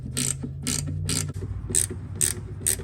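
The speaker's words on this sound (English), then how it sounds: "Now as I tighten these bolts" A hand ratchet tightens bolts on a 1996 Camaro Z28, a steady run of sharp metallic clicks in a quick repeating rhythm, close up and clear with no talk.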